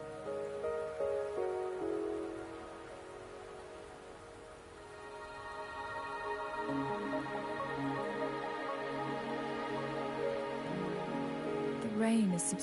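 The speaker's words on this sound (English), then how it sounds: "The rain is subsiding, and the sky will soon clear." Rain falls softly in the Wuthering Waves video game, a faint steady patter beneath sustained musical tones that swell midway, with no talking.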